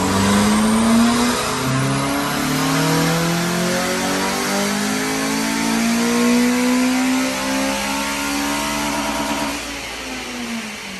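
Honda Civic FN2 Type R with gearbox mods on a rolling road, engine revving steadily upward through the gears in a long loud pull that eases off near the end, close up.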